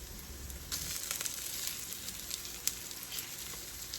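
Latkes frying in oil, a steady close sizzle and crackle with small pops as the pancakes are flipped, quieter at first then swelling to a bright hiss.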